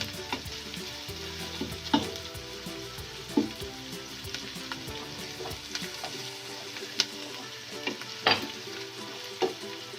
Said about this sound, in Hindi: लहसुन भी हमारा फ्राई हो चुका है